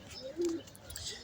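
A lone pigeon gives one soft, brief coo in a loft of racing pigeons, faint against a quiet background.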